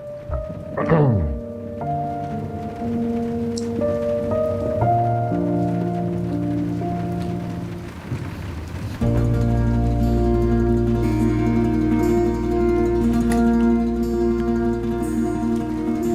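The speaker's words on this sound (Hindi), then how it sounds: "ऊपर से ये बारिश" Heavy rain falls steadily in a drama scene, a continuous wash that swells noticeably louder about halfway through.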